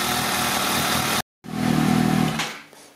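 Suzuki GSX-S 750 motorcycle engine running loud and close, with a brief cut to silence before it picks up again as a steady drone, then fading as the engine is switched off.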